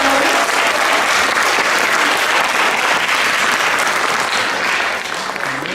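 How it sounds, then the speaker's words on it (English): A large audience at a school district film festival applauds elementary student films, a loud, thick, continuous roar of clapping that holds steady throughout with no talk over it. "let's give one more big round of applause for all of our second through fifth grade films"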